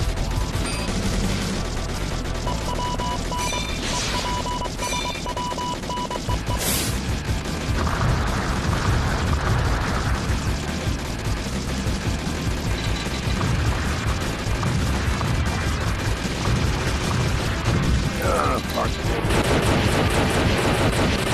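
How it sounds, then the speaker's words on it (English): Airstrike blasts and heavy gunfire in the shooter Pariah, a relentless wall of rapid shots, crashes and booming impacts filling the whole stretch at high volume with no pauses. "Airstrike."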